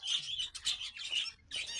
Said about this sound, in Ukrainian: Я не знав, як можна не захоплюватися ось цими пташками.